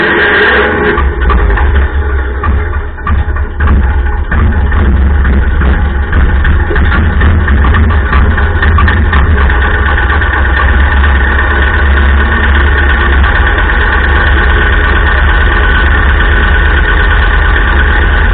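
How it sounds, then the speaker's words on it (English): A John Deere 40 crawler tractor engine runs loud and steady, a thick continuous drone with a rough low rumble, held without letup. "This crawler really makes a cool noise"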